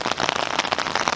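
Heavy rain pours down during a flash flood, a dense steady patter of drops striking surfaces close by, loud and continuous with no voices.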